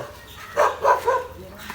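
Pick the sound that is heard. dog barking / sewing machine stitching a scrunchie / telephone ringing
dog barking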